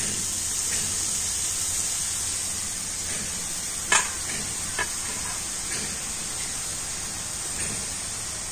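Batter frying in hot oil to make boondi for motichoor laddu, a steady bright sizzle and hiss throughout, with a few soft clinks and stirring bumps close by and no talk.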